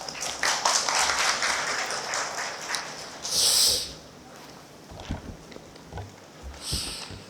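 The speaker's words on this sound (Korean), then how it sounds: "큰 박수 부탁드리겠습니다." Audience applause at a panel discussion of a forum on foods for special medical purposes, a dense broadband patter that is loudest in the first three seconds, then thins and fades into quieter room sound.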